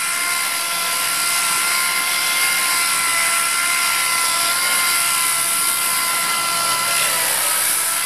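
A high, steady whining power tool grinds custom bodywork on a kei truck, continuous and close for the whole span with no pauses, its shrill tone holding constant throughout.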